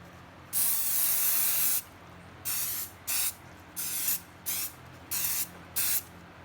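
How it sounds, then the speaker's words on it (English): Bursts of spray hiss as cleaning product is sprayed onto suede Clarks shoes: one long continuous spray, then five shorter quick sprays in a steady rhythm, close and fairly loud, with no talking. "Spray the product."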